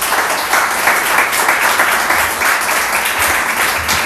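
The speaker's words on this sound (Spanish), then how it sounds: "Vamos a aplaudir al Señor de los obedientes." A church congregation applauds during a pastor's sermon, with steady, dense clapping that stays loud and even for the full few seconds and no break.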